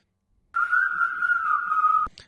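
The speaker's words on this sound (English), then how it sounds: "That's the famous whistles." A single long whistled note from the isolated whistle stem of a song, clean and steady with a slight waver, held for about a second and a half before cutting off abruptly.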